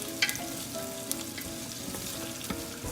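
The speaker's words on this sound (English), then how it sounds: "let them go crispy, let them brown the sides of the bacon." Bacon and juniper berries frying in a pan until crispy, a steady close sizzle with scattered pops and a few sharp crackles throughout.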